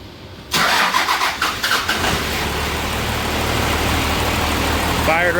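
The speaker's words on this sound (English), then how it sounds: "Fired right up, nice and smooth." Engine of a 12v, starting up close by with a short cranking burst and catching, then settling into a smooth, steady idle; a voice briefly speaks over it.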